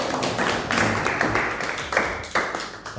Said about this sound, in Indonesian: Tepuk tangan untuk Mbak Risma.